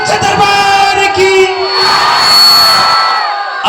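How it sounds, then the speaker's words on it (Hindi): A crowd at a Hindu devotional jagran for the goddess raises a loud, sustained roar of cheering and shouting with a musical tone running through it, swelling toward the middle before cutting off. "बड़ी इज्जत के बाद बात जयकारा उद्घोष ऊंचा होने चाहिए, तालियों के साथ, हल्ला के साथ।"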